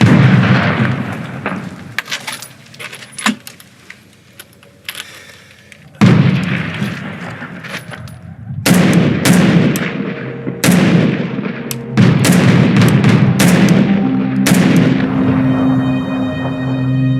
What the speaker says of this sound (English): Coalition airstrikes continue to pound the city.